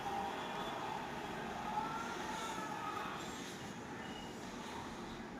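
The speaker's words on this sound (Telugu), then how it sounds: "సో ట్రైన్ అయితే వచ్చేసింది" A metro train pulls into a station in Hyderabad, its broad, steady rumble and hiss filling the space at close range, with no voices over it.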